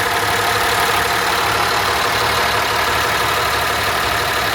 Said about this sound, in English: Sorry for all the noise. I know it's really, really loud in the engine bay